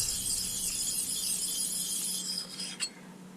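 A file or sharpening tool rasps across a blade from an Eco Shredder ES 1600, making a steady, close scraping hiss that continues for several seconds with a small clink near the end.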